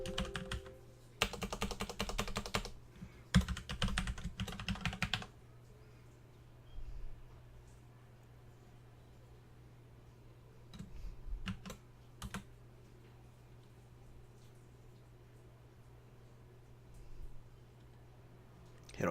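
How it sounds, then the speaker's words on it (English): A password is typed on a computer keyboard for a Raspberry Pi Bitcoin node setup, with quick bursts of close key clicks early on, then sparse single taps over a steady low hum. "Enter my password."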